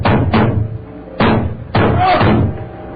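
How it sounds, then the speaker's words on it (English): A fist banging on a door: a few heavy, booming knocks in irregular bursts, loud and close, with a resonant thud after each blow and no talk. "I went to the door and banged on it."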